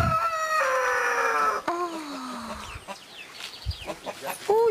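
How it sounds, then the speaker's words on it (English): Chickens cluck and a rooster crows nearby in an outdoor farmyard in Belize, a long crow followed by scattered clucks and squawks, moderately loud with light background noise. "Look at the beautiful chickens."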